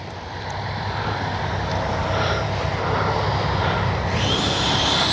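An FMS Avanti S 90mm EDF radio-controlled jet flies past, its steady ducted-fan roar loud and continuous, with a thin high whine running above a broad rushing wash.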